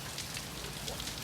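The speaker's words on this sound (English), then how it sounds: "The rain is falling from the sky." Rain falls outdoors on a cold December day, a steady soft patter and hiss of drops on surfaces, faint and continuous with no talk.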